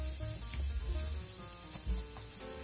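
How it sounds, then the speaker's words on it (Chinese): Sliced onions stir-fry in hot oil in a pan, a close, steady sizzle with occasional low thumps and scrapes as they are pressed and moved around. "油热，洋葱先下去煸炒"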